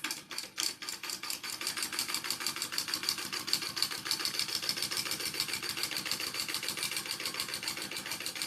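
A domestic sewing machine stitching a fabric bag runs in a fast, steady mechanical rhythm after a few slow starting stitches, close and continuous with no talking.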